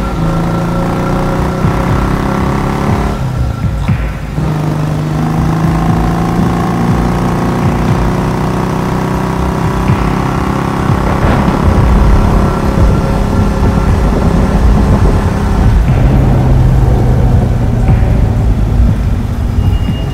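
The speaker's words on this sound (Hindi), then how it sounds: "बुल्ली गुल्ली की बाइक पर बैठ गया और बाबा ने अपनी बाइक निकाल ली" Motorbikes ride through a stormy night in a Hindi horror story, a steady mid-range engine drone running throughout with rumbling low noise and a few shifts in pitch, loud and continuous with no speech.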